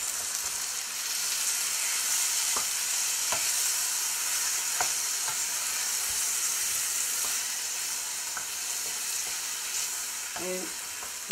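Diced canned tomatoes with their juice bubbling alongside pork chops in a pan for piperade, a continuous close sizzle with scattered pops and light stirring clicks throughout, no talking.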